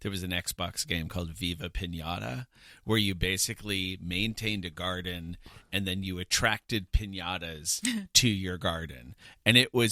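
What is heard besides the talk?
None of the usual background noises is heard.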